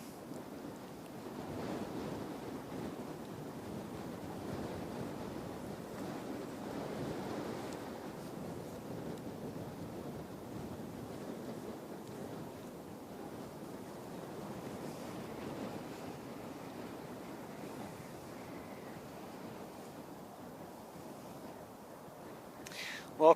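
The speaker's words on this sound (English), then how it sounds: "Welcome to a blustery Christchurch." Strong gusty wind roars steadily across Christchurch airport, a broad continuous rush with buffeting on the microphone that swells and eases for over twenty seconds, with no voices over it.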